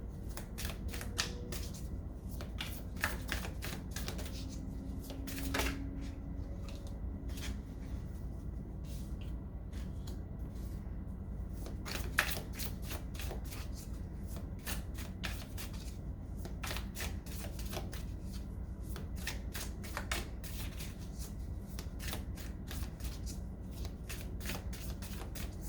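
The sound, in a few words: tarot cards being shuffled during a reading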